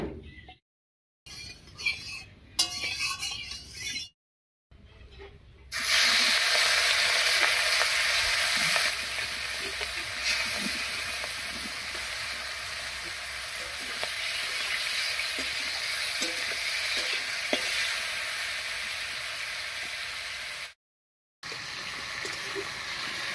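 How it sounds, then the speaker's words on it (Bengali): Prawns coated in salt and turmeric fry in mustard oil in a wok. After a few short, choppy sounds, a loud, steady, close sizzle runs on with faint crackles and one brief dropout near the end. "চিংড়ি মাছগুলো হালকা করে ভেজে নিয়েছি"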